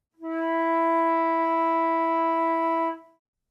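A flute sustains a single first-octave E natural, one clean steady tone that starts softly, holds evenly for nearly three seconds and then stops, heard close and alone in a quiet room.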